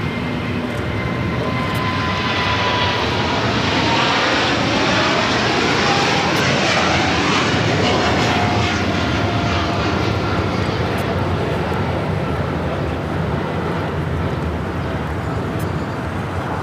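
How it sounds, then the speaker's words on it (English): A Nippon Cargo Airlines Boeing 747-8 freighter takes off from LAX for Tokyo Narita. The loud, dense engine roar stays strong throughout, with a whining tone that sweeps as the four-engine jet passes close by. "This is Nippon Cargo Airlines 101 taking off to Tokyo Narita on a 747-8 freighter."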